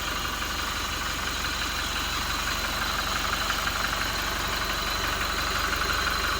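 A 2021 Toyota Innova Reborn V automatic diesel engine idles steadily, a close, even mechanical clatter with a low rumble running unbroken throughout.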